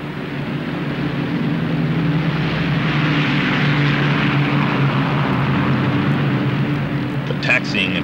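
A World War II Bomber Command bomber taxiing and taking off from a British airfield, its engines producing a steady loud droning roar throughout, with a brief clatter near the end.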